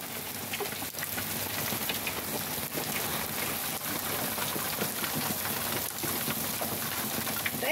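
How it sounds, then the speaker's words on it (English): Heavy rain falls outdoors at a garden site in autumn, a dense steady hiss of drops with occasional louder splats and patters, continuous throughout and without any talking. "Oh! Big rain."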